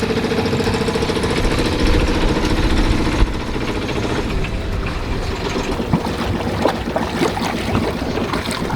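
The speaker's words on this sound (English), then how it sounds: "Now it's in neutral and it's giving some fuel to the engine." Sailboat's inboard engine idling in neutral with a little throttle, a steady close mechanical chugging throughout, slightly shifting in tone partway through, with no talking.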